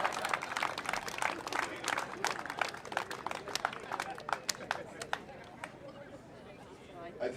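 An audience at a political rally claps hands, a mix of sharp individual claps and scattered applause with crowd murmur beneath, strongest early and thinning out toward the end.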